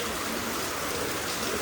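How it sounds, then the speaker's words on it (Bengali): Heavy rain pours down in a dense, steady hiss with no breaks, loud and close throughout the brief stretch. "ঝমঝম করে বৃষ্টি নেমেছে, এই বৃষ্টিতে কোথাও যাওয়া পসিবল না।"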